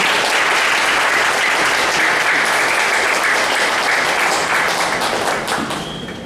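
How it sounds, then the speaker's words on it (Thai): A large audience applauds a lecturer at a university certificate ceremony in Thailand, producing steady, loud, dense clapping that holds throughout and tapers slightly at the very end. "ปรบมือให้เกียรติกับอาจารย์ด้วย"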